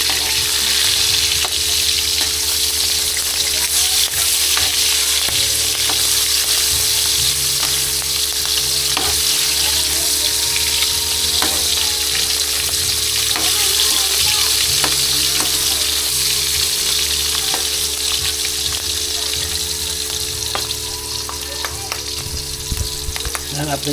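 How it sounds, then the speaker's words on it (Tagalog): Continuous loud sizzling and crackling of chicharon (pork rinds) frying in hot oil in a pan, steady throughout with occasional pops and a low background hum. "Habang nagpiprito tayo,"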